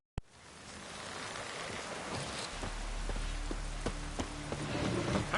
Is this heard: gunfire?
no